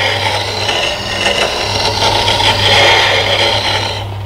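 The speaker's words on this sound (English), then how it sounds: "grind with secondary bevel. Try and use all of the stone." A woodturning detail gouge ground against a black sharpening stone with a steady, continuous rasping scrape under a constant low motor hum, close and fairly loud throughout, with no talking.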